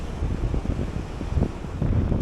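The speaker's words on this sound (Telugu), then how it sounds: "గాలి అయితే మంచిగా చల్లగా వస్తుంది" Cool wind blows hard across the microphone at Kovalam beach, a continuous low rumbling buffet with gusts, surf faintly underneath.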